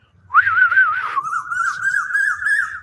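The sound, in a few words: person whistling imitating a bird call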